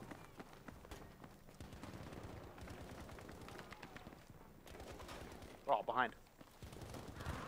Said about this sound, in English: where's that guy shooting from?